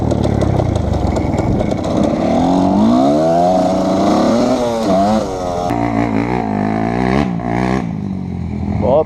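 A 250cc motocross dirt bike, a Honda CRF 250 R, revs hard and loud up close, its engine pitch rising and falling in repeated throttle blips and sweeps, with clattering and a rider's voice mixed in.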